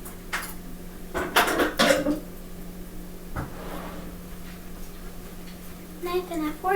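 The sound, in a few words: knife and fork being brought for pancakes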